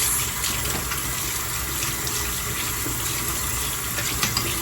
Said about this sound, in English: I'll rinse off the brush first, and then I'll rinse my face.